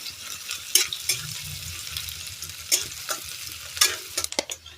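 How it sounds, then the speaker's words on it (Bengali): Chopped onions fry in hot oil in a pan while being stirred for bhindi masala, a soft steady sizzle broken by several sharp scraping stirs of the spoon against the pan. "পেঁয়াজটা ভালোভাবে নাড়াচাড়া করে 2 থেকে 3 মিনিট সময় নিয়ে একটু ভেজে নেব"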